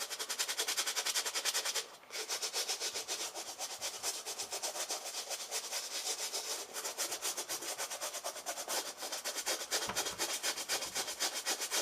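A brush scrubs dirty Nike Air Max sneakers clean in a fast, continuous, close, rough back-and-forth scrubbing with a brief pause near the start and no talk.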